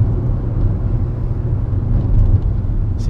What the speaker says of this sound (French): quand on écrase la première vitesse, ça part bien, mais c'est tout en souplesse